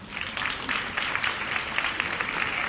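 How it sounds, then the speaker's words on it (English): Audience applause at a 2010 fashion event, a moderate, continuous patter of many hands clapping somewhat distant, steady for the whole stretch with no speech over it. "let's give them a round of applause."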